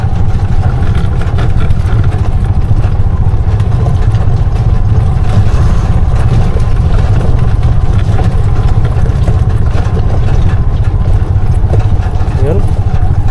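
A Bajaj RE auto-rickshaw engine runs steadily with a loud, continuous mid-low drone and rumble throughout, heard from on board during a test drive on a steep, rough road, with someone talking over it.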